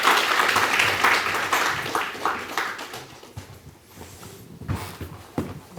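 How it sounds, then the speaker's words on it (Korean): Audience applause at an agricultural policy forum in Sejong, clapping strongest at first and fading out over a few seconds, followed by a few scattered knocks. "박수 한번 부탁드리겠습니다."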